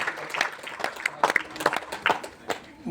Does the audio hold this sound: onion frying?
no